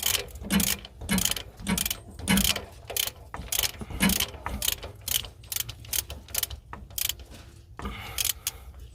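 A ratchet clicks in quick bursts while a bolt is driven into the shifter mount of a 1994 Ford F150, with short pauses between rapid sets of sharp metallic clicks close by and no talking.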